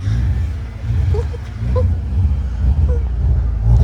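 An Alfa Romeo car engine revs and accelerates close by, a steady loud rumble swelling in waves over about four seconds, with a voice talking over it.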